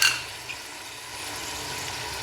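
Ginger, garlic, tomatoes and green chillies fry in a pan for chicken pulao, giving a steady close sizzle and hiss that starts with a brief louder burst and then holds even.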